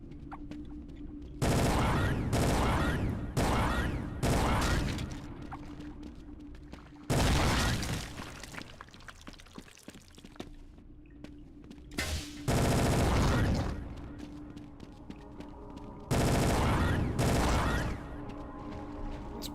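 Repeated loud bursts of gunfire from the video game Brutal Half-Life, heavy volleys lasting a second or two each, separated by quieter stretches of in-game ambience and rumble.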